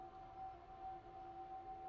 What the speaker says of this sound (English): The Reaper siren.